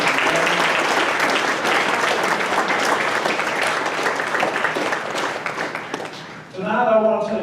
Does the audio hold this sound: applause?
yes